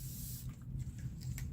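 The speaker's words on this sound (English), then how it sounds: "Spray these little bit of surface bubbles." A quick hissing spray aimed at small surface bubbles on a resin pour, a soft close burst with faint squishing and no talk.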